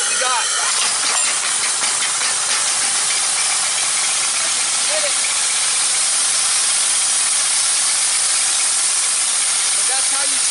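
A DeWalt 3835 pressure washer engine runs loudly with a constant hissing, spraying roar that fills the whole stretch, steady and close, without pauses.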